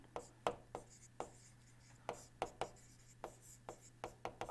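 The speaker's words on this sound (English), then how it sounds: "let us write process 3 to 4" Chalk or marker strokes as a lecturer writes out a steam power cycle process on a board: a steady run of sharp, close taps and scratches at irregular short intervals over a low hum.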